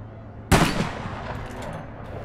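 A single loud, sharp sniper rifle shot rings out in the video game APB Reloaded, followed by a trailing echo that fades into faint background noise.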